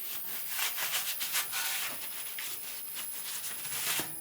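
A rag rubbing across a Chevrolet Malibu wheel hub after the axle nut is tightened during a wheel bearing replacement, a steady scratchy wiping swish in repeated strokes close by.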